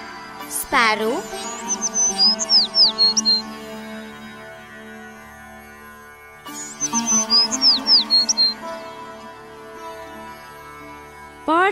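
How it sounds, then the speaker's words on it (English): A sparrow chirps in two bursts of quick, high tweets, each opened by a sharp rising squawk-like call and followed by a string of rapid bright chirps, close and clear against quiet. "Sparrow."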